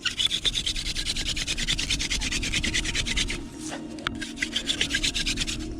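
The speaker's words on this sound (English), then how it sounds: "It's like the stereotypical rubbing fire with sticks" Long wooden hand-drill spindle spun between the palms to make fire, giving a steady, close, loud rhythmic rubbing and scratching of wood on wood, with a brief pause near the end before the rubbing resumes.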